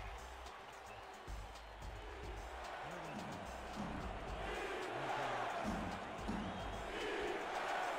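A large stadium crowd in New Orleans roars steadily at a football game, the noise swelling louder toward the end, while a voice talks over the din.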